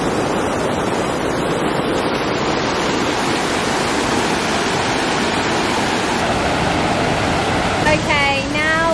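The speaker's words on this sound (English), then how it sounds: "You can definitely hear the waterfall." Dense, constant roar of a waterfall in Munnar, India, fills the whole clip, steady and close, like falling water crashing nearby.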